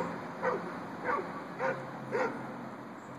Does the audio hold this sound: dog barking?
yes